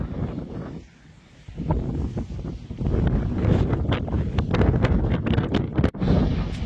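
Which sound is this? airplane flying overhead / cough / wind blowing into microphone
wind blowing into microphone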